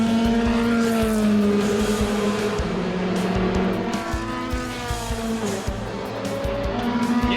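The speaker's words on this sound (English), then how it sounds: "Felipe Albuquerque in the Zytek now with a new set of tyres." A Zytek prototype race car at Le Mans on fresh tyres, engine roaring loud and close with a sustained rising and falling whine and shifting pitch, plus some tyre noise.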